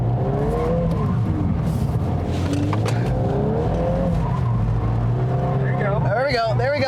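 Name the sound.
Volkswagen hot hatch drifting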